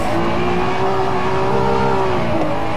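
A Honda NSX's VTEC V6 engine revs loudly, its pitch climbing and holding in a strained, sustained howl before easing slightly near the end.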